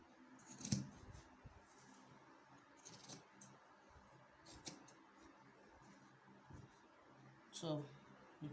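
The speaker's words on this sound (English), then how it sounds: "I'm just going to dip my scissors and just try to achieve a curve from here like so" Scissors snip through fabric while cutting a curved edge for a button-down shirt dress, a few short crisp cuts spaced apart, close and quiet, with talking throughout.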